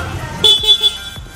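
A motorcycle horn gives three short, close beeps in a row over a low idling engine.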